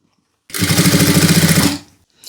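An electric sewing machine stitches canvas and lining along a chudithar neckline in one steady, close, loud run of about a second, with rapid even needle rhythm, then stops abruptly.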